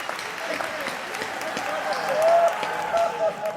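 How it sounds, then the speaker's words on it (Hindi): Audience applause in the hall of a Hindi comic poetry gathering, a continuous crowd clapping that swells briefly, with speech faintly mixed in. "ताली इस बात पे पूरा सदन बजाएगा"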